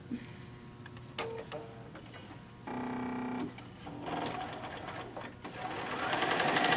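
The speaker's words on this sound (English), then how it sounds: "we're going to sew across, again, our 1/4 inch, flip it around, sew the same on the other side." A sewing machine stitches quilt fabric segments in short runs, its mechanical whir starting and stopping several times, loudest in a steady burst midway and building again toward the end, with no voices.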